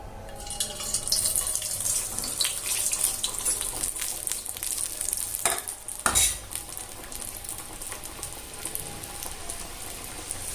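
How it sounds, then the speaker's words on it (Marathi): Wheat-flour samosas deep-frying in hot oil in a home kitchen, a continuous bright sizzle with scraping and stirring clatter from a utensil, including a couple of sharp knocks midway. "आपलं समोसा तळायला आहे आता आपण काढून घेऊ"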